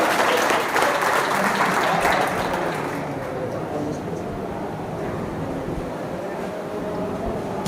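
Sustained applause from an audience at a scholarship distribution ceremony of a charitable trust in Tinsukia, loud at first and easing to a steady patter, with some faint voices beneath.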